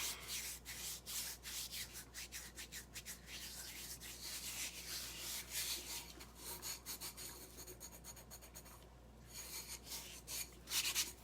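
Something is rubbed hard by hand across a surface in quick, rhythmic scratchy strokes, faint and close, pausing briefly before picking up again, with no talk.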